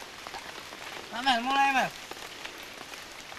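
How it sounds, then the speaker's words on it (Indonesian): Heavy rain drums steadily on a tent at a camp on Mount Latimojong, a dense, even hiss throughout, with a voice briefly calling out over it. "kami terpaksa berhenti karena hujan yang tiba-tiba datang dengan cukup deras"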